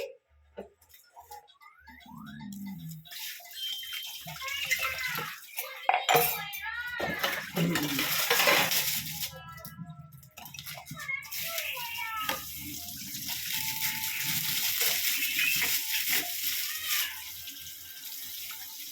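A home water filter rinsed under a running tap gives a steady, close stream of splashing water, with changing spatter as the cartridge is turned and scrubbed. Voices are faint in the background.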